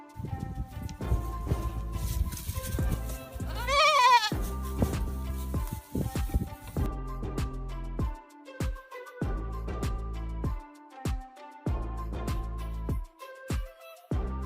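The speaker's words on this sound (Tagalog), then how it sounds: "Dahil nga sa sobrang kalikutan ng mga kambing na ito, ay paborito nilang umakyat kahit saan. Kaya naman, pati ang tupa ay napagdiskitahan nila." Goats and a sheep on a farm bleat in repeated loud, wavering cries close by, one after another with short gaps, over some shuffling and hoof noise.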